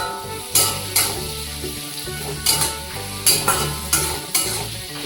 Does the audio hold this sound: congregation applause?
no